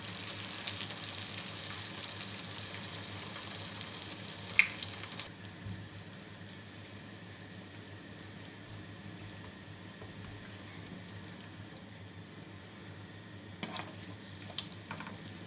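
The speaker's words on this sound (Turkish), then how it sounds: "Kızgın yağımızın içerisine atıyoruz." Steady sizzling of food frying in hot oil, a dense crackling hiss that drops a little quieter partway through, with a few faint pops.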